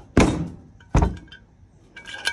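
A hammer strikes a hydraulic control from a 63-foot Hatteras to knock out hardened chunks of old glycol fluid. Two loud, sharp metallic thunks come about a second apart, followed by fainter rattling.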